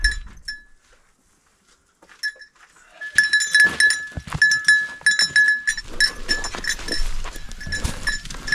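Goats bleating on a farm beside a truck, with light clinking and rustling, close and intermittent, starting quiet and growing busier.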